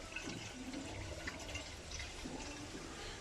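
Dark used engine oil pouring out under pressure from the drain of a Hyundai Tucson ix35 with a 1.6 G4F engine during servicing, a steady continuous splashing gush with no talk.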